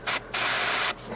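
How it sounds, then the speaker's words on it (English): An airbrush sprays thin paint onto a Dropzone Commander miniature, a short hissing burst followed by a longer steady one, close and fairly loud with no talk. "It's almost like spraying a really light ink."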